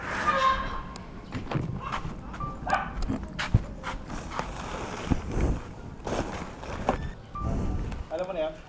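Dogs bark in short, scattered bursts at moderate distance while several people talk close by throughout.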